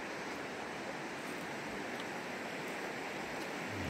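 River water flowing past a campground, similar to the Smith River, a steady broadband rush of moving water, soft and even throughout with no voices.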